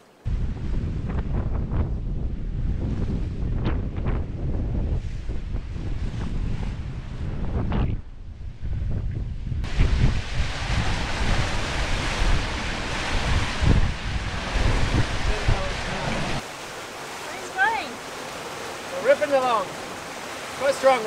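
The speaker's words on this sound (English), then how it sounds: "Strong winds." Strong 25-knot wind buffeting the microphone while sailing between Whitsunday and Hook Islands, a loud, continuous roar with gusts, mixed with rushing water and surf, and a quieter, hissier stretch near the end.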